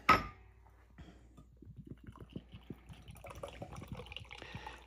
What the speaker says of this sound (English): Let's see how this red ale pours.